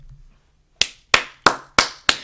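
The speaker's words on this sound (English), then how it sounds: "If you wonder why I clap, it makes it so much easier when I'm editing the podcast." Five sharp hand claps in a steady rhythm, close and crisp, following a moment of near silence.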